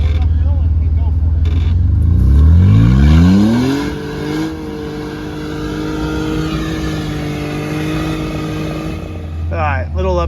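An off-road vehicle's engine revs hard as it climbs a steep hill: a loud, close roar whose pitch swoops upward, then settles into a steady strained drone.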